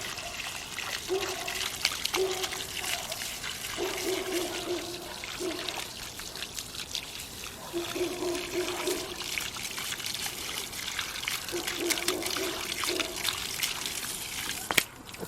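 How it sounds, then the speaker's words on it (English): Garden hose water spraying and splashing over sandy seaweed in a bucket outdoors, a steady trickling, pouring wash with recurring stronger gushes as the stream moves across the pile. "I'm just gonna hose this stuff down really good."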